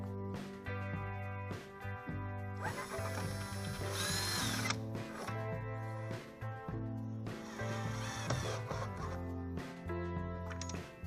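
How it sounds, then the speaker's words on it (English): A power drill drives a screw into a 2x4 wooden outdoor bench seat board, its motor whining steadily with a ratcheting clutch chatter, loud and close, with a brief harder grinding surge midway. "I drill a pilot hole and put the first screw in."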